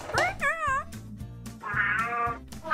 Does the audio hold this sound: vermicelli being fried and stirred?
no